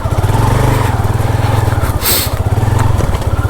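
A motorcycle loaded with bedding, blankets and household gear rides over big rocks, its engine a close, loud, steady throbbing drone with a brief hiss partway through, and no talking.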